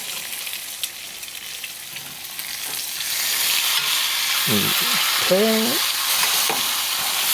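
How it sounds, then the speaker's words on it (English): Pork chop fried rice stir-fried in a pan, a steady close sizzle with scraping stirs that swells louder partway through; a voice briefly speaks over it. "Stir it constantly."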